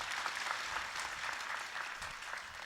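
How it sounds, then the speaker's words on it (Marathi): Continuous applause from an audience gathered for a kirtan discourse, fairly faint and distant, steady for the whole span with no voices over it. "जोरदार टाळ्या झाल्या पाहिजे"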